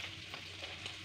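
Boiled potatoes seasoned with salt and chili stir-fried in a pan, a steady close sizzle with soft scraping through a short stretch, no talk.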